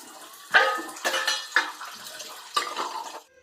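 Dishes and pots are washed under very cold running tap water, with water splashing and several clattering knocks of utensils against each other, close and fairly loud.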